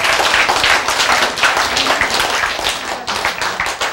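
A crowd bursts into loud, dense clapping that holds steady for about four seconds, close and full, with no talk over it.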